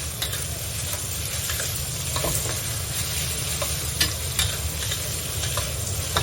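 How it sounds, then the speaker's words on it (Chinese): Pork slices stir-fried in a smoking-hot wok give a steady, loud sizzle and hiss, with light scraping of the spatula and occasional clinks against the pan, close up and without talk. "冒烟之后啊，咱们把这肉给它下进去。 哎，把肉给它炒一炒。"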